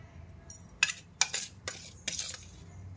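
A spoon stirs Bombay chutney, a gram-flour batter, in a bowl, giving four or five quick scraping clinks against the sides with quiet pauses between them.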